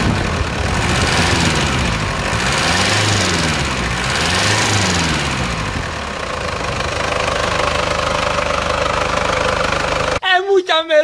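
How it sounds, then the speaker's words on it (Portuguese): A Toyota SW turbo engine revs up and down in rising and falling sweeps, loud and close, settling toward a rough idle before cutting off abruptly. "Dá uma acelerada aqui, ó."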